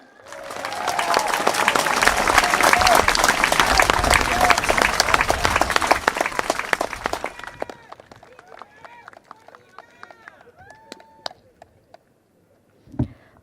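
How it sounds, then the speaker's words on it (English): Loud, dense applause from a crowd at a political rally that swells and holds for several seconds, then fades out, leaving faint scattered sounds and a brief final thump. "One more round of applause for Dr."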